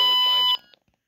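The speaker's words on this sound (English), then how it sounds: "How do I turn the alarm off, though?" A RadioShack 12-522 weather clock radio sounds its alarm, a loud steady electronic beeping tone that cuts off abruptly after about half a second, followed by a faint click.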